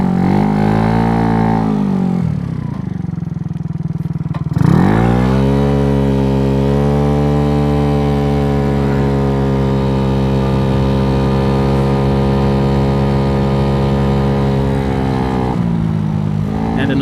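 A Venom X18 motorcycle idles loud and close, then its engine revs up sharply and holds a steady, buzzing drone before easing back down at the end.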